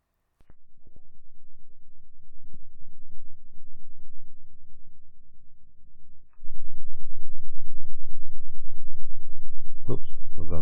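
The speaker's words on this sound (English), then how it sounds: "Just try that again, and you'll hear the low buzz hum sound." A low, steady electronic buzz hum tone used in an infrasound experiment, faint at first and then jumping to a louder, sustained drone for the rest of the clip, with no voices.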